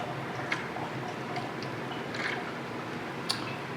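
Distilled white sage water dripping from a still, a few faint isolated drips over a steady low background hiss.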